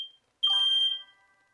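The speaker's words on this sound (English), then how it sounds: "the fire alarm in my room keeps going off." A room's fire alarm sounds one short, loud, piercing electronic beep, alone in a quiet room with a brief ringing tail.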